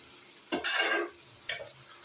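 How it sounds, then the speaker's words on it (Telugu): Broad beans cooking in a lidded pot are stirred in two short scraping bursts, the first longer and louder, a brief second one following, close by with no talk. "మధ్య మధ్యలో కలుపుకుంటాను అన్నమాట"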